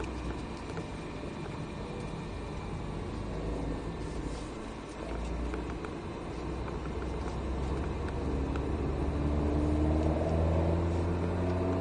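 Alpine A110 S car driven at full throttle on a track, a steady engine drone heard from inside, rising in pitch toward the end.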